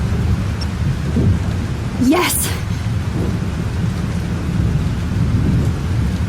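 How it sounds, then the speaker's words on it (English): Heavy rain hisses steadily through a thunderstorm in the video game Life Is Strange, with a deep rumble of thunder underneath. A voice calls out briefly near the middle. "This storm is real."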